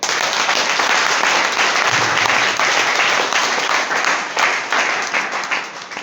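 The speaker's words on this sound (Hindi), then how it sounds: "ताली बजाओ।" Seminar audience at an RCM business presentation bursts into dense, continuous applause, many hands clapping together loudly and steadily for several seconds, with no talk over it.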